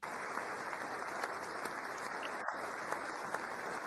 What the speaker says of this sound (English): The sombering clap